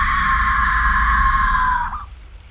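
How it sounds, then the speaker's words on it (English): A woman's shrill, blood-curdling scream, sustained and piercing at close range, holding steady for about two seconds before breaking off abruptly into a fading tail. "Shrill, blood-curdling scream."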